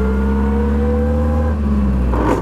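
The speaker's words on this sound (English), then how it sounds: "There's a very particular speed at which you have to change gear in this car." A 1920s Bentley 3 Litre engine drones at steady revs with a strong low rumble, dipping briefly as the gear changes near the end.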